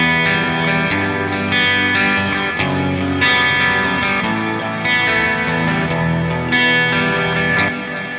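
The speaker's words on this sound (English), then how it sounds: "This is one of the best chorus pedals I've heard inside a plugin in my life." Electric guitar played through the chorus pedal of the Archetype Gojira amp plugin, clean shimmering chords and arpeggiated notes with a wide warbling modulation, faint delay and reverb tails and a touch of crunch, played solo without talking.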